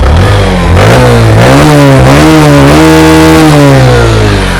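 A nearly new Bajaj Platina 110H geared motorcycle with about 3,500 km on it revs loudly up close, its engine note climbing and falling through several throttle blips.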